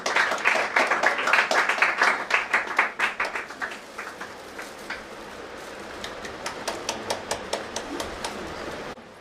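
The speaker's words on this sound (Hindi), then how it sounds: "ताली बजाते रहे।" A congregation claps in a prayer hall in Indore, starting as a loud, busy burst of many hands, then thinning into a steadier, more rhythmic patter of individual claps that fades toward the end.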